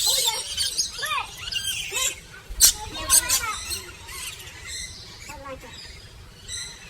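Parrots at a bird park in Pigeon Forge, Tennessee, let out shrill squeals and squawks in short, repeated bursts, heard close up and mixed with people's voices.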